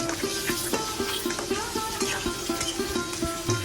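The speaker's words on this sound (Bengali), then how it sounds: "এখন একটু নাড়া দিয়ে সবকিছুর সাথে মিশিয়ে দিব।" Ruhi fish curry with tomatoes, flat beans and potatoes being stirred in a pan, with steady sizzling and frying and regular scraping stirs, close and continuous.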